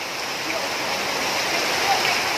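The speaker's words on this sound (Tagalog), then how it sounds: "Baha na diri sa airport." Heavy rain and rushing floodwater at Butuan airport during Typhoon Tino form a steady, loud, broadband wash of water with no breaks.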